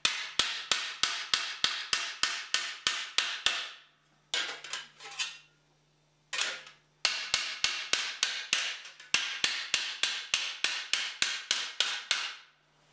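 Hammer taps on sheet metal, smoothing shrinking tucks: rapid, evenly spaced light metallic blows in several bursts with short pauses between, close and clear, no talking.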